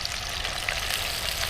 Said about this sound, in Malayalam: നമുക്ക് വറവറാന്ന് വറുക്കണം.